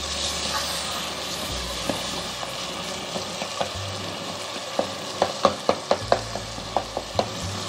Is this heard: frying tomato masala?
yes